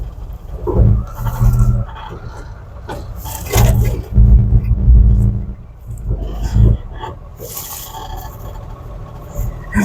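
An old Chevy truck being brought back to life, with its engine cranking and catching in loud rumbling bursts, three separate attempts spread across the stretch with quieter gaps between, and people talking nearby.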